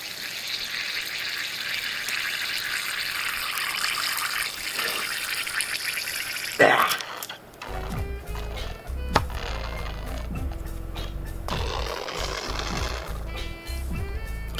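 Water pours from a tap into a glove stretched over a water bottle, a steady rushing gush that stops abruptly, followed by close handling clatter and squeaks.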